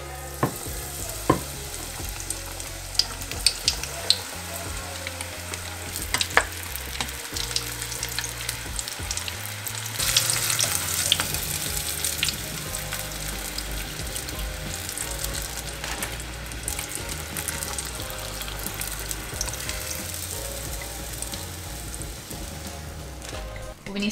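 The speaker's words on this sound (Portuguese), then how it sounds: "Agora sim, partiu fritar." Coxinhas made with chicken bone fry in hot oil, giving a steady, close sizzle with scattered crackles and occasional clinks of a utensil, with no talking.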